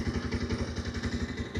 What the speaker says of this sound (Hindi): अब आप आइडियल कंडीशन पर इंजन साउंड सुनिए इस बाइक का